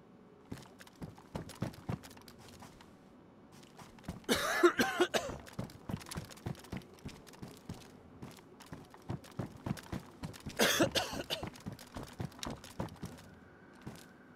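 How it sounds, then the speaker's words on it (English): Someone coughs repeatedly over DayZ in-game voice chat, two harsh bursts standing out above a steady clatter of keyboard typing and clicks. "No, he's still coughing."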